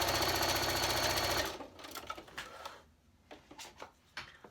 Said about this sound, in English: Then we're going to sew that seam right there.